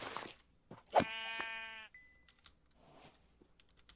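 A Minecraft sheep gives a single wavering bleat, close and clear over faint game ambience, followed by small clicks and soft shuffling.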